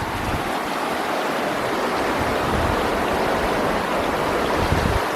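A river flows through the Cranberry Wilderness of Monongahela National Forest, a steady, close rush of water running alone and evenly for the whole stretch with no voices.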